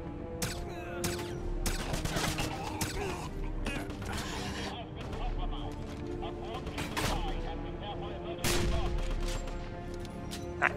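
Sniper gunfire in the video game Wolfenstein, with several sharp cracking shots scattered among mechanical clanks and creaks over a busy game soundscape.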